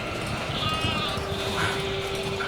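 A sheep in the video game The Alters gives a drawn-out bleat over steady low game ambience, fairly close and clear, with no speech over it.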